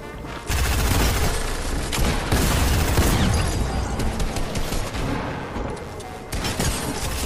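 Rapid gunfire from the video game Fortnite, with dense, loud bursts of shots running almost continuously over several seconds and a few heavier booms mixed in. No voices are heard.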